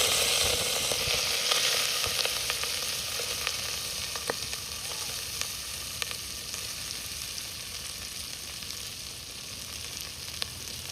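Rice hitting hot oil in a pot for egg biryani, cooked outdoors in the hills, gives a steady broad sizzle and frying hiss that holds evenly throughout, with faint crackles and no voices.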